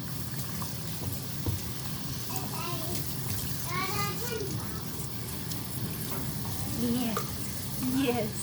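Running water pours and splashes steadily throughout as a Cockapoo puppy is washed in a bathtub, with a person talking softly over it and brief whimpers from the dog.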